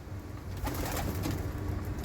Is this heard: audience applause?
no